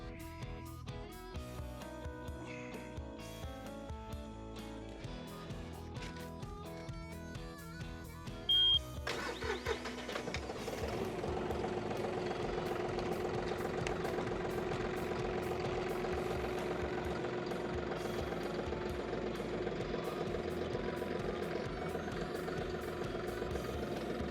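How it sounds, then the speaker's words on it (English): A John Deere tractor engine turns over and catches at about nine seconds, then settles into a steady, loud idle that runs to the end, with some clatter before the start. "Now I'm going to jump back in my tractor and reverse out of the loader."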